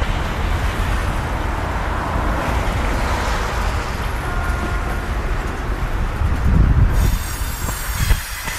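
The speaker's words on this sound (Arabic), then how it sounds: "وهذا القطار تحت يمشي" A train runs along tracks below a dry, snowless forest in near-freezing cold, giving a steady, fairly close rumble of rolling wagons with wheel squeal and rattling clatter. No one speaks.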